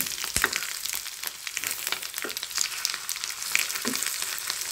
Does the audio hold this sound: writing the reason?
no